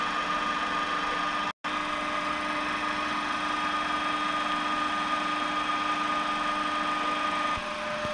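A DC shunt motor in a brake-test setup runs steadily near 1500 rpm, giving a constant close mechanical hum with a fixed whine, briefly cut off once before the even drone resumes.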